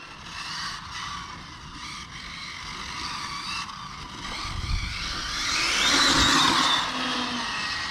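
A hot-engined Hobao VT7 RC car races nearby with a steady high motor whine that rises into a louder, brighter rev toward the end, with no talking over it.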